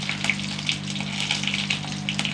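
Mustard seeds splutter in hot coconut oil with rapid, crackling pops over a steady low hum, close and continuous.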